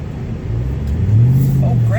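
A Jeep engine revs up with a rising whine, growling louder over two seconds as the throttle is pressed, while someone talks over it.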